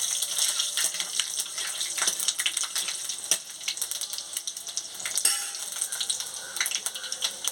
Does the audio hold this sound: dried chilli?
yes